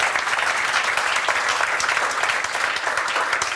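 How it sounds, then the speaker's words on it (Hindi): Students clap loudly and continuously in a group, a dense, even burst of applause at a coaching institute branch in Matanhail. "इनके लिए ज़ोरदार तालियां बजाओ बेटा।"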